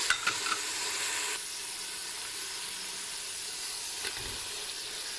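Chopped dry onions sizzle in oil in a Fissler pressure cooker pot, a steady close frying hiss with a few stirring knocks early on, no talking.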